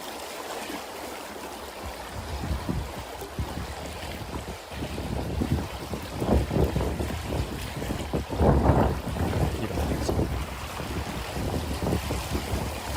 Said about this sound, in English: There's sound to it, but I think we all know what a river sounds like.